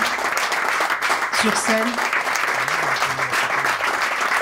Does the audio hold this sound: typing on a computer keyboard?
no